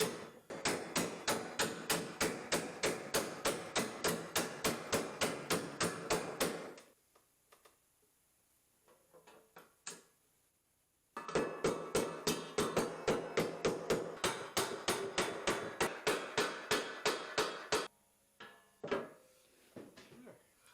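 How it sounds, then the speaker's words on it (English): Sheet metal bends being hammered over on a workbench during a school bus conversion, with two long runs of rapid, evenly paced metallic blows separated by a pause and a few scattered taps near the end. "so I hammered them over on the workbench."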